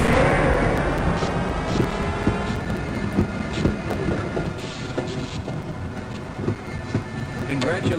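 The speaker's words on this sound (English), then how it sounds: "Once engaged, move forward or backward to increase or decrease the speed of the train" A train in the Half-Life Blue Shift video game moves along with a continuous rattling, rumbling roll and scattered metallic clanks, loud and steady throughout.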